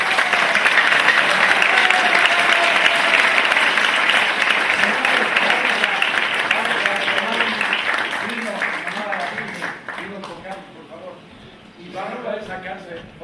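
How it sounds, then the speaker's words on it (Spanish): Loud audience applause at the presentation of the Virgin of Agartha in Bolivia, steady broadband clapping that slowly fades over several seconds, with voices and cheers mixed in near the end. "Un aplauso a la verdad más bella de Bolivia"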